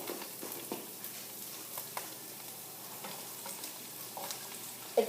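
Onions frying in a pan over high heat, a faint continuous sizzle with scattered light ticks and pops and a sharper clack near the end, no voices.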